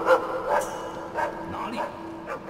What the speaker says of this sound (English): The dogs are making noise.